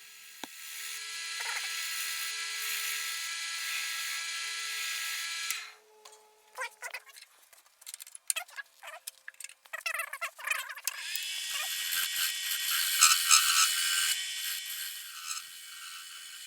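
A wood lathe spins a mini baseball bat blank while a roughing gouge cuts along it, giving a steady close whirring hum, then a stretch of irregular scraping and tool knocks before the hiss of cutting builds again.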